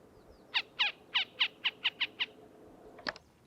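A Northern harrier gives a rapid series of about eight sharp, evenly spaced calls, fairly near, followed by one more single call after a short pause.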